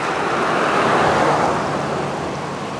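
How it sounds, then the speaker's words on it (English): Steady, broad rushing roar of the swollen Assabet River flowing fast in flood, close and continuous with no breaks. "It's flowing really fast."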